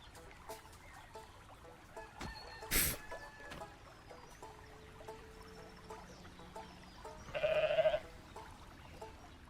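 Goats bleat repeatedly in the video game Goat Simulator 3, set on an island, with short cries over quiet game ambience, one loud burst and another bleat a few seconds later.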